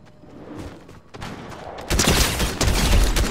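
Sniper rifle fire in a Fortnite match, several sharp reports followed by a dense, loud burst of gunfire and battle noise, no talking.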